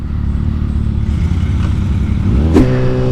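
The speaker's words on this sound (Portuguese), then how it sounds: "picapezinha clássica da década de 80, bonitona" Engine of a classic 1980s pickup truck idling loud and steady up close, a low throbbing rumble that rises slightly near the end, with a brief sharp clatter.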